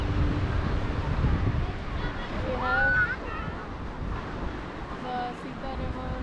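Sea waves wash steadily at Delta Point near Udupi, Karnataka, where the Sita River's Suvarna estuary meets the Arabian Sea, with wind rumble on the microphone and a person speaking over the surf.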